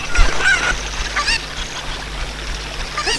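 Game fowl in Zelda: Ocarina of Time Master Quest honks and squawks in several short bursts, loud at first and then intermittent over a low ambient background.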